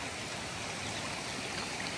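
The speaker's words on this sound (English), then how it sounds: "Good amount of water flow." Stream water flows beside a hiking trail in Yosemite, a dense, steady rushing wash close by with no pauses or voices.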